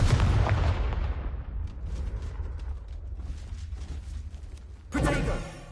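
Confringo blasting spell in Hogwarts Legacy, a heavy booming explosion that rumbles and decays over a second or two, followed later by another sharp blast burst; loud and close.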